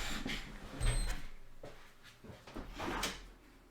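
A motorized door lock drive runs briefly as it unlocks, giving faint mechanical clicks and a short whirring movement, quiet and close with no talking.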